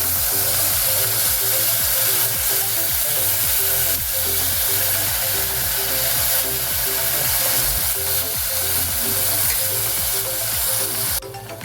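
Strained black tamarind water hitting a hot pan for Kerala inji curry, a loud steady sizzle with a rhythmic bubbling pulse throughout, close up and with no voices.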